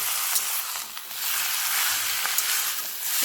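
Cabbage frying in hot ghee in a pan, with a steady soft sizzle and hiss, moderately close, with small crackles and no talk.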